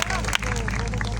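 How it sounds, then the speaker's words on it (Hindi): Congregation at a preaching service clapping loudly and continuously, a dense close-up wash of handclaps with crowd murmur and voices mixed in throughout. "आइए यीशु के लिए जोरदार ताली बजाएंगे, Clap, clap, clap, clap"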